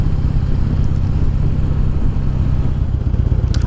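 A motorcycle engine idling after new injectors were installed, a close, steady low pulsing throb with light mechanical clatter.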